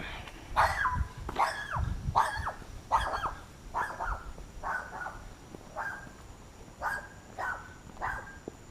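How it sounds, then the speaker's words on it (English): A small dog barks repeatedly outdoors on a walk in Dallas, about ten sharp, evenly spaced barks at moderate distance over faint street background. "Little ankle biters bark the loudest."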